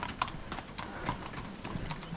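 Horse hooves clip-clopping at the end of a horse-drawn carriage ride in the mountains near Zakopane, a steady, moderately close series of light hoof strikes at walking pace, no voices.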